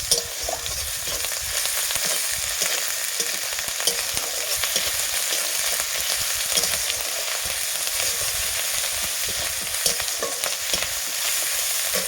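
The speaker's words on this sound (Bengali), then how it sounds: "রসুন বাটা 1 চামচ, আদা বাটা 1 চামচ দিয়ে একটু ভালোভাবে আমি নাড়াচাড়া করে নেব" Garlic and ginger paste stirred into fried onions in a pan for a potato, fig and tomato curry, with a dense continuous frying hiss and small scraping movements throughout, loud and close, no speech.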